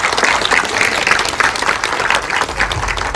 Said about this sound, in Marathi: आपण सर्वांनी सर्वप्रथम सर्व कलाकारांसाठी जोरदार टाळ्या वाजवल्या पाहिजे